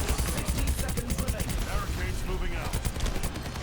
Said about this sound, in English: Gonna keep shooting here.